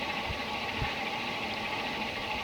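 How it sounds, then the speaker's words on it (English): A Century Open Top 60-inch antique ceiling fan turns at medium speed, about 185 RPM, giving a steady broadband whoosh of moving air with a low motor hum underneath and a couple of faint thumps, continuous and fairly close. "Now on medium speed it's doing 185 RPM, and that's fast for any 60-inch fan."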